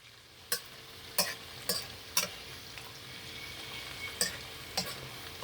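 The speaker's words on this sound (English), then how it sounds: "So for 1 minute we will be sauteing the ginger and garlic." Ginger and garlic sautéing in a wok for street-style chilli chicken and fried rice: a soft, steady sizzle broken by several sharp scraping stirs of the spatula, close and moderately quiet.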